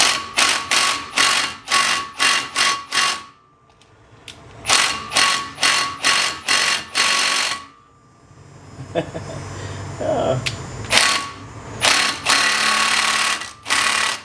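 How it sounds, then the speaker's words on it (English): Battery impact wrench hammering on a Ford Fusion brake rotor bolt in repeated loud, rapid rattling bursts with short pauses between, close by, with someone talking in a gap between bursts. "You really are going to want to use an impact for this"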